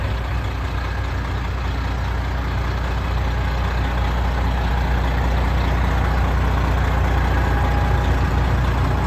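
A 2016 Peterbilt 389 factory glider flattop truck idles with a steady, deep, even diesel rumble, close and continuous throughout, with no talking.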